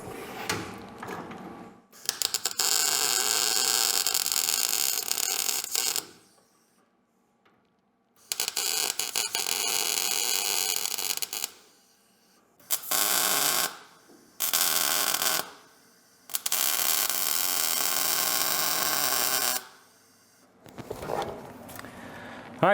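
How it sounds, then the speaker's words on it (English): Tack welds dropped on thin metal while fitting a force support on a 1966 car restoration, heard as several loud crackling bursts of a few seconds each, separated by short silences. "What I was doing is just stacking up little tack welds behind it."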